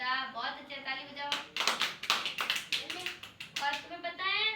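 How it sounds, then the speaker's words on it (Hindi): Children clapping their hands during a classroom-style lesson: a burst of many quick, overlapping claps fills the middle, with a voice speaking before and after. "बहुत अच्छा, ताली बजाओ।"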